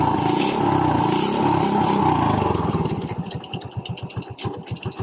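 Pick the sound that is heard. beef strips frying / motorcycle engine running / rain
motorcycle engine running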